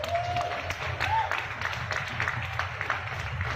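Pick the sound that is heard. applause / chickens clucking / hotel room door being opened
applause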